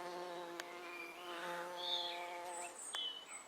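A leafcutter bee buzzes steadily around nest holes in a garden, a faint, close drone that rises and falls as it hovers, with distant bird calls behind.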